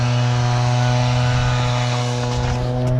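A Toro HD Power Max snowblower runs close by, putting out a loud, steady engine drone with a strong hum and no break over a few seconds.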